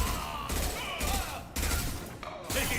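Gunfire in Mass Effect 2 Legendary Edition: dense volleys of sci-fi weapon fire arrive in repeated rapid bursts roughly every half second, loud and close, with game voices faintly underneath.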